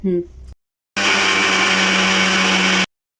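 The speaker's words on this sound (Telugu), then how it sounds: "ఇవి చల్లారిన తర్వాత పేస్ట్ చేసుకోవాలి మిక్సీలో వేసుకొని మెత్తగా" A kitchen mixer grinder blends cooled, cooked ingredients for a milmaker curry into a smooth paste, a loud steady motor whir running for about two seconds after a brief burst of voice and a pause.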